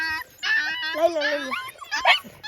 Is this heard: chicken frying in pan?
no